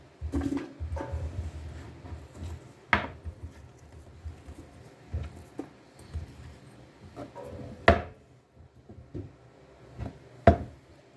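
An apple is chopped with a knife on a wooden cutting board while making pepper jelly, giving irregular knocks and thuds at a close, moderate level, with some louder sharp strikes spaced apart.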